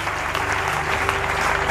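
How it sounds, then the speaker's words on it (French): A church congregation in Gabon applauds in a steady, dense burst of clapping that fills the room, with a low tone sustained underneath. "On acclame le Seigneur."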